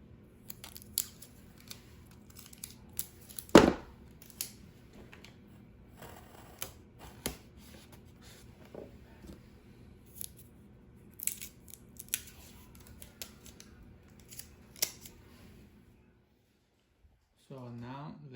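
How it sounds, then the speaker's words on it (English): Tape is pulled from a roll and torn off to attach a cup to a Play-Doh marble slide. Crisp rips and crinkles come close by among clicks and handling noises, with a short squeak near the end. "So let's tape it."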